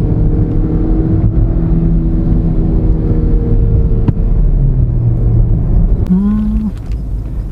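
Engine of a Hyundai Grand i10 Nios held in second gear at full RPM during a test drive, a loud, steady droning whine from inside the cabin that eases off near the end.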